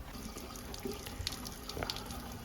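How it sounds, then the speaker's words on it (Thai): Water pours and splashes as a centrifugal water pump for rice-field irrigation, fed through a 3-inch pipe, is primed; it makes a steady, fairly faint trickling wash with a few small splashes and drips. "หอยโข่งก็เตรียมกรอกน้ำนะครับกรอกน้ำเดี๋ยวเปิดได้เลยนะครับ"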